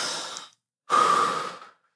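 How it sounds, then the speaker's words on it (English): Two deep breaths taken to calm down, a long exhale followed by a pause and then a longer, stronger breath, close and alone with no talk. "Show me your deep breathing."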